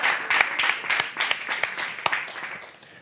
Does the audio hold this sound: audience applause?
yes